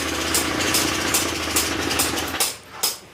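A worn car engine with a cracked block idles roughly nearby, with a rattly, uneven mechanical chug and periodic ticking bursts throughout.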